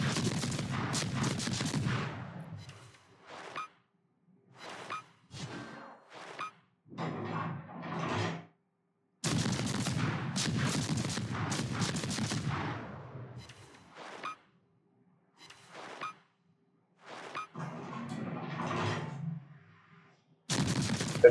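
Naval guns on the destroyer USS Johnston fire in a warship game, heavy booming salvos that come in bursts separated by silent gaps, some long rumbling and some short sharp reports, no voices.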